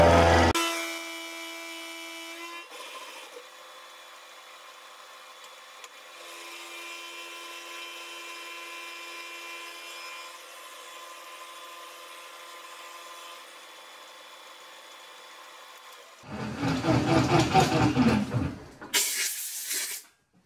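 Powered metal lathe taking a light final cut on a metal part for a slotter build: a quiet, steady motor hum with faint cutting noise, ending in a few seconds of louder rough grinding and scraping.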